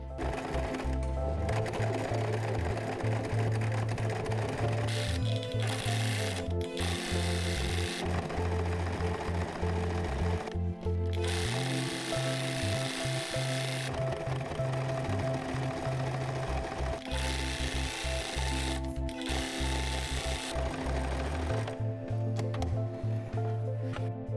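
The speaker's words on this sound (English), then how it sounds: "It's sewing on the right side of the fabric, and it's just simply to make it a bit stronger" A sewing machine top-stitches fabric on the right side for an oversize handbag, running in long steady bursts with brief pauses between them, close and loud, with no talking.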